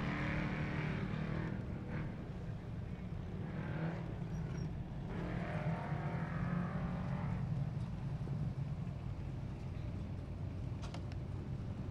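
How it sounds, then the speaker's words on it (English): Off-road race cars at King of the Hammers 2018 qualifying, heard from afar as they leave the Jeep Proving Grounds short course for the desert: a continuous distant engine roar that swells and fades as the vehicles pass. "You can certainly hear the cars when they come out of that Jeep Proving Grounds"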